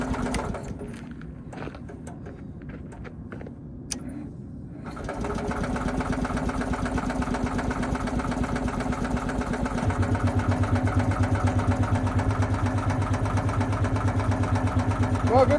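An abandoned 1977 Winnebago's engine catches after long cranking and settles into a steady, loud, rough idle that grows fuller toward the end, preceded by quieter clattering and a brief voice.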